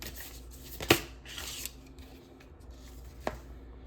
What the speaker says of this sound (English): Let's shuffle your first oracle card on camera.